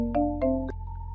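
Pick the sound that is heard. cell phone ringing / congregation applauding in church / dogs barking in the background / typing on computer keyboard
cell phone ringing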